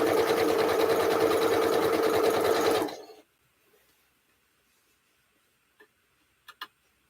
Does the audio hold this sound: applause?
no